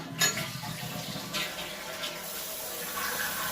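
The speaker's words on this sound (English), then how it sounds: "So after that I'm gonna try it so if there's any leak around the toilet, then I flush it." Freshly reseated toilet after a wax ring replacement flushes and refills, giving a steady rushing, trickling water sound at close range with no talk.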